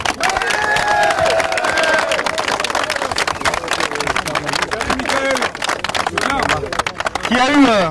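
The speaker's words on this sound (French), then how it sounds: "je tiens à ce qu'on applaudisse chaleureusement comme il se doit François Hollande" A crowd of workers at a Goodyear gathering applauds and cheers for François Hollande, steady clapping and shouts filling the space with voices mixed throughout.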